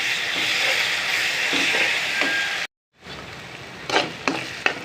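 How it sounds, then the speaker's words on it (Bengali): Crab fries in a pan with onion, spring onion, ginger and garlic paste, giving a steady sizzling hiss that briefly drops out, then returns with scraping stirring knocks. "পেঁয়াজ পাতা পেঁয়াজ আদা রসুন বাটা সব কিছু বেশ কিছুক্ষণ কষাতে হবে"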